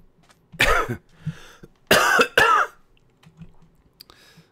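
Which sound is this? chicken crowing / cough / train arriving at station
cough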